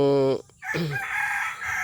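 A rooster crows up close, its harmonic call cutting off abruptly, then a short gap before further shrill, strained crowing.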